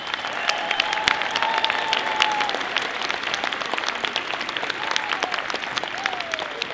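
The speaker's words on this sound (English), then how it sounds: "Parents, let's give them a round of applause." Parents applaud students at a sixth-grade academic recognition ceremony, a steady, dense round of clapping from a sizable audience in a room, holding an even level throughout.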